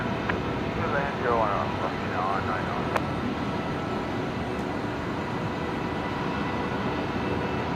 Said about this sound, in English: So velocity 999 now cleared to land